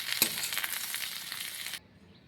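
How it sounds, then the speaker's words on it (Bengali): Mixed vegetables including capsicum frying in a pan, a dense close sizzle with a sharp clack near the start that cuts off abruptly to near silence. "সবজিগুলো আমার ভালো করে ভাজা হয়ে গিয়েছে।"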